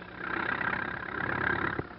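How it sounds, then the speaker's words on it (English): Tractors pull corn wagons at a corn husking contest, giving a steady, muffled engine drone at moderate distance that holds without break and ends with a brief knock. "Tractor-drawn wagons pull the loads."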